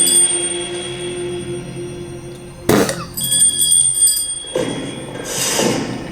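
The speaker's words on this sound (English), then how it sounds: "that woman literally rung a bell" A handheld bell rings sharply twice, close and bright with lingering shimmer, amid a tense room ambience with a soft background tone.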